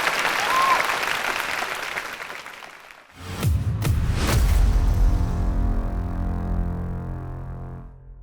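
Audience applause at the final of a martial-arts music competition show, a dense wash of clapping for the first three seconds, then giving way to loud music with strong bass.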